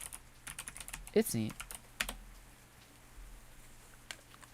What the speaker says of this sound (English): You can see my fingers actually typing.